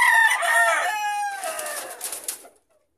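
A rooster crows loudly and close at a gamefowl breeding yard, one long rising and falling cock-a-doodle-doo that breaks into a raspy tail and fades to quiet.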